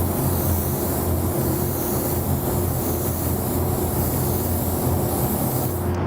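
Spray painting a second coat of Wicked Opaque Pyro Red gives a loud, continuous airbrush hiss over a low steady hum, with no talking.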